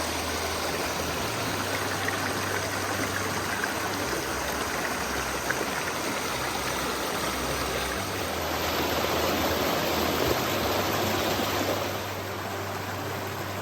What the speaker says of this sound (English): See and listen to the water running down.